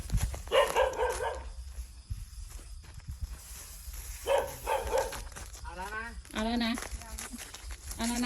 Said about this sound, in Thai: หมาเห่านะคะตรงนี้